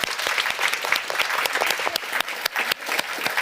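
Conference audience applauding panel speakers and discussants, close, dense clapping with sharp individual claps standing out, continuous and fairly loud.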